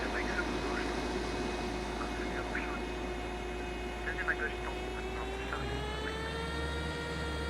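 A Challenger 650 business jet in the X-Plane 12 flight simulator begins its engine start, a steady whine with rising tones over a constant low rumble and hum that swells slightly toward the end, heard alone.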